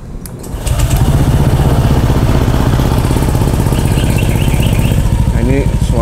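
A Honda Vario 160 scooter engine fitted with a WRX GP3 exhaust starts from cold and settles into a loud, steady, throbbing idle close to the microphone, with a person speaking briefly toward the end.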